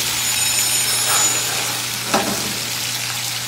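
Vegetables frying in a pan, a continuous soft sizzle with faint stirring scrapes and one brief clack.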